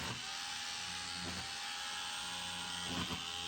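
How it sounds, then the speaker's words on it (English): A power chisel grinds steadily through plaster over lath around an electrical panel during a 200 amp panel install, a continuous high whining buzz with brief rougher bursts of chipping. "I'm going to go ahead and start chiseling around this right now"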